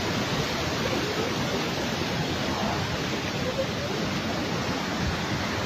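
Floodwater rushes down a road in Raipur, Dehradun after a cloudburst, a loud, unbroken roar of turbulent water filling the whole scene from close by.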